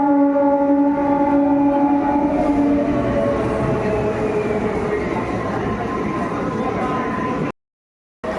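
A train at Howrah railway station rumbles steadily nearby while a long sustained horn or siren-like tone sounds over it at first, the noise continuing before cutting out briefly near the end.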